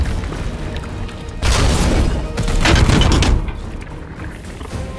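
Lascannon fire in Warhammer 40,000: Chaos Gate – Daemonhunters, a heavy armor-penetrating energy weapon whose two loud, broad blasts with booming rumble stand out over ambient battle noise.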